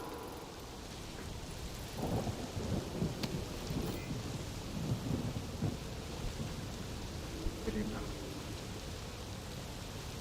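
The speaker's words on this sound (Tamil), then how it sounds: "மழை பெய்து கொண்டிருக்கிறது." Rain and rolling thunder in the video game Death Stranding 2: a dense, steady hiss of downpour with deep thunder rumbles swelling and fading, one brief word spoken over it.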